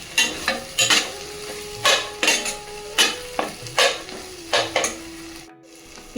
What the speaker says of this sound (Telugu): ఈ బ్రెయిన్ని కొంచెం ఇట్లా ముక్కలుగా చేసుకోవాలి, మొత్తం కలిసే విధంగా ఉల్లిగడ్డలో